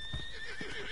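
Horse in the Red Dead Redemption 2 video game gives a short, bright whinny with a couple of soft hoof thuds, quiet and brief, with no talking.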